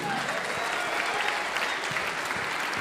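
Steady, dense applause from a gathering of bands crowd, a continuous roar of many hands clapping throughout.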